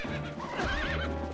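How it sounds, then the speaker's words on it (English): A horse in the video game Twilight Princess lets out a clear, loud whinny over rhythmic clip-clopping hooves, close up and without speech. "No, get off the horse."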